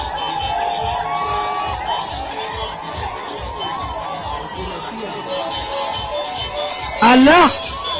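Political rally crowd cheering and shouting throughout, with a burst of high trilling ululation near the end; an amplified voice carries over the steady crowd noise.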